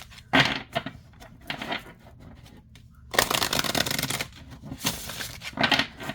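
A Gaia oracle card deck being shuffled by hand: several bursts of riffling card noise separated by short pauses, with one longer, louder run of rapid shuffling in the middle, heard close up with no talking.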